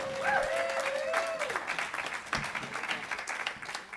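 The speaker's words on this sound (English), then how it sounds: "Give them another round of applause." Audience applause rolls on for several seconds, dense and steady, with a whooping cheer and a rising whistle-like shout near the start before the clapping carries on alone.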